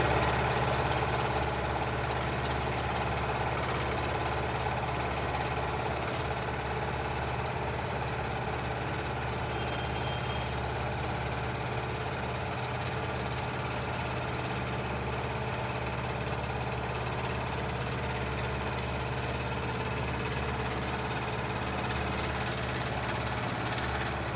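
A river boat engine drones and rumbles continuously with a constant low hum and vibration, unchanging throughout.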